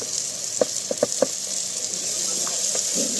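Ground turmeric, chilli, cumin and coriander powder with a little salt hit hot oil in a clay pot, giving a steady hiss with a few sharp clicks and taps of a utensil early on.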